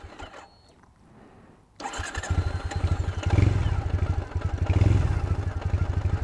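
A fuel-injected Triumph Thruxton motorcycle, started without fast idle, cranks briefly after a quiet moment, then catches and settles into a loud, close, lumpy idle with steady pulsing exhaust beats.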